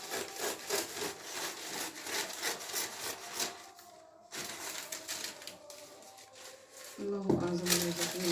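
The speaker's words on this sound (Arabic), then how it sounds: "بحاول اقطع ورقه زبده كده." Baking paper being cut, with repeated rough rubbing and scraping strokes in an uneven rhythm, close and moderately quiet, under a voice.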